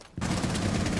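Sustained close gunfire from the console shooter Rainbow Six Siege, starting abruptly after a short quiet moment and holding as a dense, loud stream of shots.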